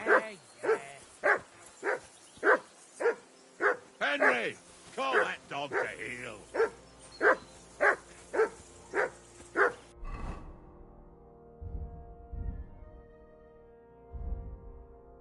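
A dog in Kingdom Come Deliverance 2 barks about a dozen times in a steady, loud rhythm, close by, before falling quiet while low voices murmur underneath.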